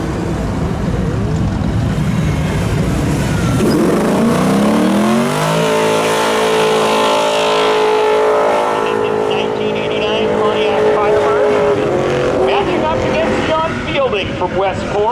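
Drag racing cars launching and accelerating down the strip at Seekonk Speedway, loud engines roaring and rising in pitch through the gears, with an announcer talking over the noise.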